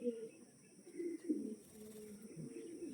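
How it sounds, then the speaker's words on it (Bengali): A female pigeon coos softly in low, throaty murmurs, a few faint calls close by against quiet background. "পায়রাটা এটা মাদি পায়রা"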